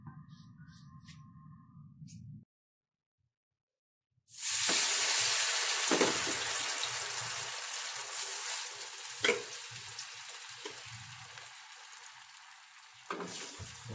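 An eggplant omelette mixture, tortang talong, hits hot cooking oil with a sudden loud sizzle that settles into a steady close hiss with occasional pops, after a brief hum and a moment of silence.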